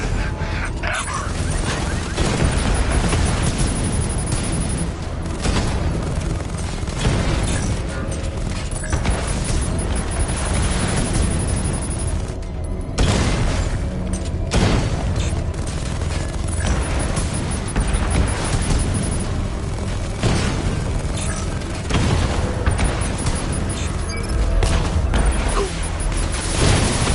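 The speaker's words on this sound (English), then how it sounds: "The explosion disabled the main cannon." Explosions and heavy cannon fire from the Batman: Arkham Knight video game, a loud, dense barrage of booms and mechanical clatter running almost continuously, with only a brief lull midway.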